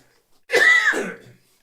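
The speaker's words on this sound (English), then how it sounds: "There's been a lot of coughs going around this winter in the UK, and mine's been horrible, quite frankly." One loud, close cough with raspy throat clearing from a person with a winter cold, a single harsh burst that trails off into quiet.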